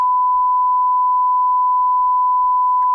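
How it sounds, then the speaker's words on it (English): Steady electronic sine carrier tone used in an amplitude modulation demo, holding one pure, unwavering pitch at constant loudness for about three seconds, alone with no other sounds. "That is our carrier wave we can hear."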